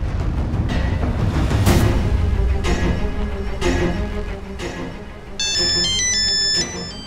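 An electronic ringtone chimes in a quick repeating melody, rising over background clatter and bursts of noise near the end.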